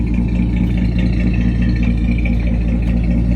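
A six-cylinder car engine idles steadily nearby, a smooth low rumble with a faint rhythmic clatter and no other sounds.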